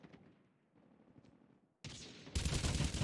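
Automatic weapon fire in the Call of Duty Mobile game starts with quieter distant rattling bursts, then erupts into loud, continuous close-range volleys.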